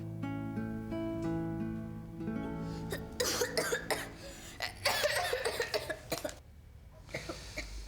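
Several harsh coughs in quick bursts, fairly close and loud, following a stretch of soft tonal music at the start.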